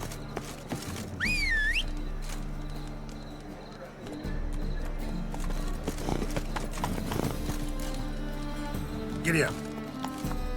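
Roach, Geralt's horse in The Witcher 3, gallops with steady hoofbeats running through the whole stretch, joined by a short whistle near the start and a brief whinny toward the end, with game music and voices layered over it.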